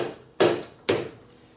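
A plastic hammer strikes the flat part of a 1957 Harley-Davidson panhead engine block twice, two sharp, close knocks about half a second apart, each with a short ringing decay.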